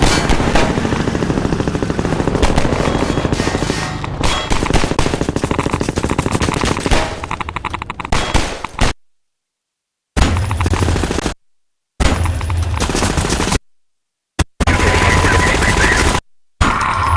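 Rapid automatic gunfire rattles loudly in Half-Life 2 as shots are fired at drums, a long continuous burst followed by several shorter bursts separated by silences.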